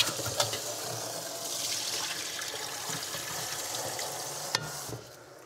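Cold tap water running over cleaned squid in a kitchen, a continuous hissing stream with faint splashing and a couple of small knocks, then the flow cuts off near the end.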